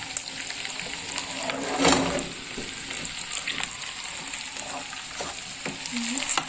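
Rice sizzles and crackles in hot oil with a steady frying hiss, broken by occasional stirring scrapes and a brief louder burst.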